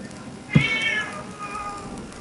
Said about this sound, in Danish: Der er sgu da et eller andet, der siger miau.